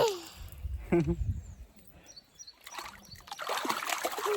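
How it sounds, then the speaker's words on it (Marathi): A child splashes water while playing and swimming in a tub, with brief bursts of splashing and dribbling water mixed with an adult's voice and a voice talking nearby. "अरे अरे अरे पाणी उडवशील माझ्या."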